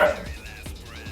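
A dog barks a couple of short, close yips over a voice that speaks in the background.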